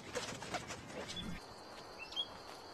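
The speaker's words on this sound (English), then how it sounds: "That's the yellow warbler right there." A yellow warbler sings at the Las Vegas Wash in a few faint, brief high chirps set against steady outdoor background noise, with people's voices heard earlier in the moment.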